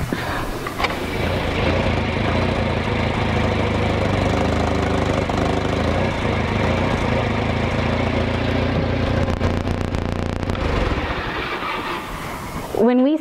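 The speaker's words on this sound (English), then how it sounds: "When we started this tractor up, it was really close on timing." A tractor engine with a freshly repaired distributor runs steadily with a rough, knocking mechanical clatter. It stays loud and close for most of the stretch and then cuts off near the end.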